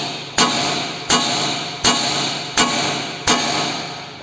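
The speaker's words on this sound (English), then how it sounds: "I'm just gonna take the hammer now, and I'm gonna tap onto the spindle" Five sharp metallic hammer taps on a car suspension spindle, struck about once every 0.7 seconds, each ringing briefly before the next hit, close and loud with no talking.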